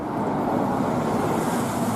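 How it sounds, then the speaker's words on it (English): A bus pulls in at a roadside stop on a main road on the Miura Peninsula in Japan, heard as a steady low engine and road rumble under a general traffic hiss, close and even, with no voices. "where the bus is pulling in now"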